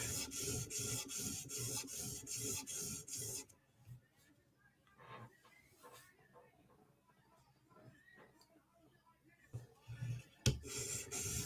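The bevel of a Chris Reeve Inkosi tanto knife is polished on a sharpening stone with quick, rhythmic rasping strokes. The strokes go quiet for a stretch, with only faint scrapes, then resume at the end.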